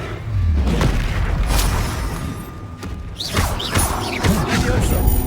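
Spell blasts from the Hogwarts Legacy video game, with several booming, crashing impacts and whooshing bursts over a steady magical rumble, loud and continuous with no talk.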